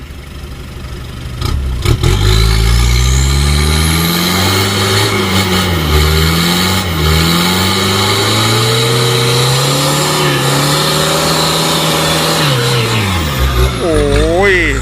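A four-wheel-drive dump truck engine revs hard and holds a loud, strained roar for several seconds, pitch rising and falling, then drops back near the end.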